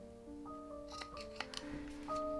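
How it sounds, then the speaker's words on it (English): Scissors snip through a fabric point on a wedding dress piece, a few brief close cuts scattered over a quiet stretch with a steady tonal hum underneath. "I'm going to trim this point down a bit."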